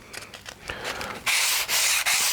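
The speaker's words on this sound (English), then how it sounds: "they say you can now smooth it with a sandpaper. I'm using a 420" Sheet of 420-grit sandpaper rubbing over a model road surface in steady back-and-forth strokes, close and dry, growing louder and harsher in the second half.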